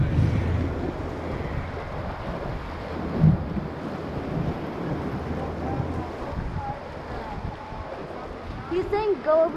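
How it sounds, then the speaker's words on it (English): Rushing water churns around a raft running rapids on the Truckee River, a continuous wash of broadband splashing with wind buffeting the microphone and people talking briefly near the end. "The rapids boil up a lot of water."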